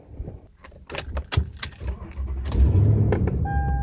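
Keys jangle up close before a 2007 Toyota Tundra pickup cranks and its engine catches, settling into a steady, loud idle.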